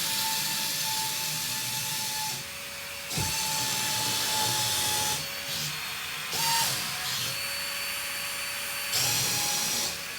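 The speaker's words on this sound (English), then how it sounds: "And that kicks in a fan that sucks this thing clear to the wall." The suction fan of a wall-climbing remote-control car whirs with a steady, close hissing whine that shifts in pitch and loudness every few seconds as the car moves, with no talking.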